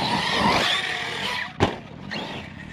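An Arrma Notorious 6s RC car drives over rough ground with a steady loud whine, then a sharp skid and impact burst near the middle, followed by quieter tire scrabbling.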